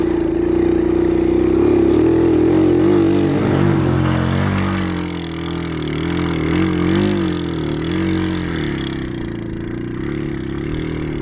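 A fully loaded motorbike with thin tyres and a 10 horsepower engine labours through sand in a hot Mexican valley, its loud, continuous engine drone wavering in pitch as it strains, no talk.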